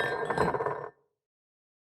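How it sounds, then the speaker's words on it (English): A porcelain teacup shattering on a table in the visual novel Tsukihime, a bright clinking, ringing crash that fades out quickly into silence, with a brief sound at the very end. "The shattering of porcelain fills the room as Akiha's teacup falls from her hand onto the table."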